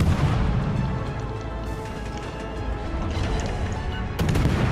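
Heavy naval guns on a warship in a naval combat game fire armor-piercing shells, a loud, dense rumble of cannon blasts and booms that swells again near the end, with no talking.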